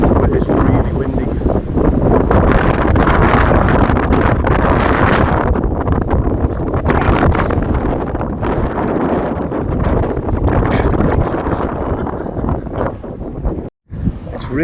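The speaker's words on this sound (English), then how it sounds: "But it's really windy." Strong wind buffets the microphone outdoors in London on a rainy night, a loud continuous roar with gusty surges, briefly dropping out near the end.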